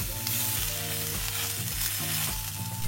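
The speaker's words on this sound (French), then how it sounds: "on reste à feu au-dessus du feu moyen et on va faire revenir nos saucisses" Sausages fry in a hot pan over medium-high heat, giving a steady, close sizzle and crackle that runs throughout without pause.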